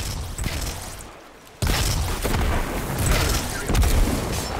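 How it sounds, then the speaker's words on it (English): Grenade explosions tear through enemies in Destiny 2, with a sudden loud boom followed by continuous dense blasts and crackling gunfire that swell in waves. "There we go, exploding enemies all around."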